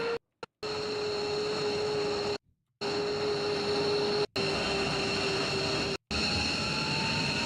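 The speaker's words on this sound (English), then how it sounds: "They use a turbine to supply air to the jet engines." A steady, high-pitched turbine whine from an aircraft turbine air starter supplying air to jet engines, with a constant tone and a low droning roar, broken by a few brief silent cuts.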